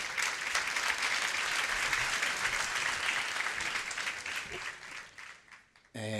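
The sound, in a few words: audience applause at a conference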